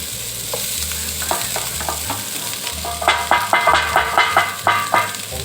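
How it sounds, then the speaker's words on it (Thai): Fried rice with chili paste, grilled fish and Vietnamese pork sausage is stir-fried in a pan, sizzling steadily as a spatula scrapes and clanks in quickening repeated strokes, loud and close. "ผัดเลยครับ เริ่มกลิ่นหอมลอยมาแล้วนะ"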